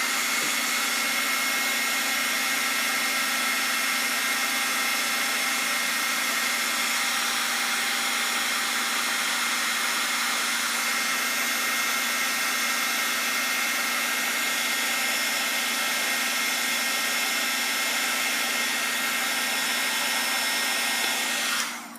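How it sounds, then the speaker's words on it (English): A heat gun blows hot air over small plastic pieces, a loud, steady whooshing hiss that runs unbroken from start to finish before cutting off at the end, with no talking. "let's hit these with the heat gun and see if we can get the ends rounded a little more"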